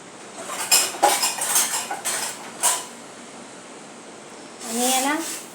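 Dry pasta rattles and clatters into a metal pot of water being heated for white sauce pasta, a burst of hard clinks followed by a few scattered knocks and a final scrape.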